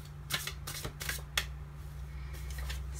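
Tarot cards are shuffled by hand in a few quick riffling bursts, each a short papery flutter, heard close and alone over a low steady hum.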